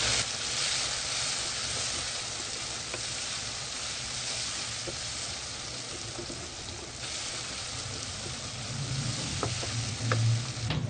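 Spice masala of kasuri methi, turmeric, red chili powder and salt frying in a pan for Punjabi tinda sabzi, a steady close sizzle with scattered soft scrapes and a louder crackle near the end.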